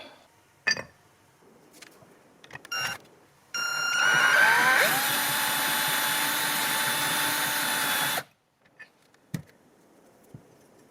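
Homemade surfacing tool, clamped on a bolt with stacked washers, grinding through powder coat on a motorcycle brake caliper for an RZ350 build, with a steady, loud whirring for about five seconds, bracketed by short handling knocks and clicks.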